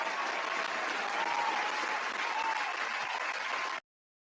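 A crowd cheering sound effect plays as a dense, steady wash of applause and clapping at even loudness, then cuts off abruptly near the end.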